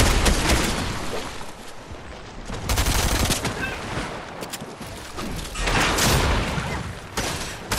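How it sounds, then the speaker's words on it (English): Rapid, dense bursts of gunfire from the video game Fortnite pile up in continuous loud volleys that swell and fade over several seconds, with no one talking. "You're shooting me, Kai."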